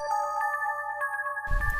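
An electronic phone ringtone from the horror game Summer Nightmare plays as a repeating pattern of clear, bright tones in a quiet room. A burst of low noise cuts in near the end.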